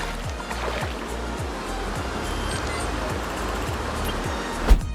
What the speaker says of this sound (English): So this is the waterfall Palo.